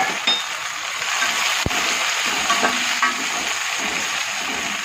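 Onions fry in a pan as tomatoes go in, giving a constant loud sizzle with a sharp metallic clink near the start and a few soft stirring scrapes for dahi tameta nu shaak.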